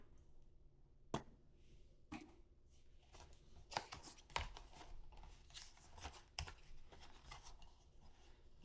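The peel tab on a Blink Battery Doorbell 2K Plus box is pulled open, making quiet rubbing and rasping of cardboard and paper with a few sharp ticks, close up and without speech.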